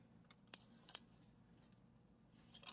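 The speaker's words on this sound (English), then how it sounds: "put your scissors in between the bag" Scissors snip through a plastic bag, a few sharp, faint clicks spaced irregularly over a low background hum.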